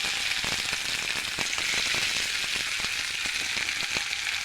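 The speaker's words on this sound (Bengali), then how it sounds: "আমি কাঁচা লঙ্কা পেঁয়াজ কুচিটা দিয়ে দিচ্ছি তেলে।" Green chillies and chopped onion frying in hot oil with whole cumin, a steady bright sizzle with small pops and crackles throughout, close and continuous, with no talking.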